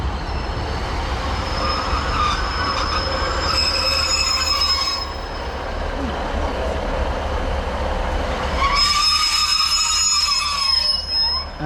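A Class 156 diesel train in East Midlands Trains livery rumbles past close by with a steady engine drone, wheels squealing sharply at moments, loud throughout.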